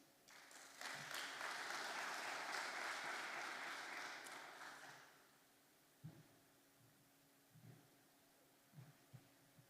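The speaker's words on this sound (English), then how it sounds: "A round of applause for him, please" Applause from a conference audience at a business event in Namibia, a broad wash of clapping that swells for about five seconds and then dies away, followed by a few faint thumps and stray noises in the quiet room.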